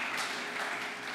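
A church congregation applauding to acclaim Jesus during a French-language service, a dense burst of many hands clapping together, steady and fairly loud throughout.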